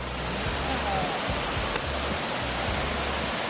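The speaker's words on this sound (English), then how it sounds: "Oh, that is the other waterfall." A waterfall in the Brecon Beacons roars as a steady broadband rush of falling water, with low wind buffeting underneath.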